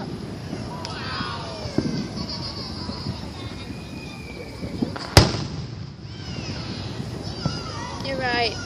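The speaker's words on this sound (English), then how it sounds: "These fireworks are badass." Fourth of July fireworks burst at a distance, with one sharp loud crack midway and scattered pops and crackles, over outdoor wind noise and people talking.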